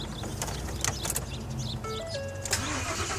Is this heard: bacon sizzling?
no